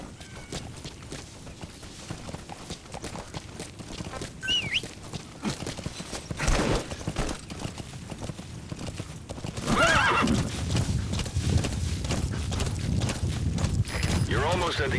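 Horse hooves clip-clop steadily through a Metal Gear Solid 5 game scene, with a couple of whinnies and neighs rising over the hoofbeats and a busy background of game ambience and voices.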